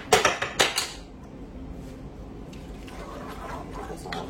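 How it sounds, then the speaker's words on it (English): A few sharp clanks of a utensil against a pot as mushrooms are stirred, loud at first and then fading into a low kitchen background hum. "Give this all a nice stir."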